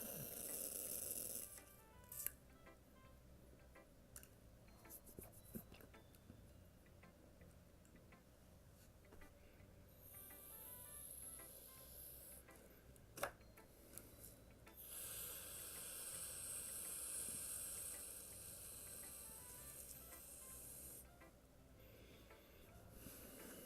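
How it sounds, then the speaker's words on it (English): Canned air duster sprayed in short and longer hissing bursts, a cold, sharp high hiss that starts and stops several times over a quiet background with faint ticking. "I'm gonna hate myself in a couple hours when I've sprayed all that freaking duster everywhere"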